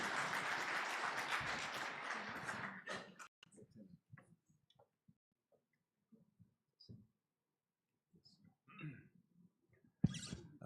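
Audience applause at a conference general assembly, a dense burst of clapping for about three seconds that quickly thins to scattered claps, faint rustles and quiet room noise, with a brief swell near the end.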